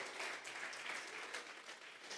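A church congregation claps together, a dense, even wash of applause at moderate distance, continuous and fairly quiet with no voices over it.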